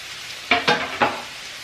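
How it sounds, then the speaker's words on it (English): Food sautés in a skillet for chicken and rice soup, with three quick scraping strokes of a wooden paddle over a soft sizzle, close and without talk. "Saute a little bit."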